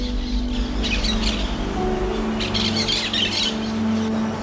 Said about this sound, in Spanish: reconocimos el simpático canto de los pericos